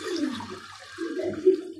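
Fish pond water poured out by hand at a small mini tilapia farm, a brief close splashing and trickling stream running unbroken for about two seconds.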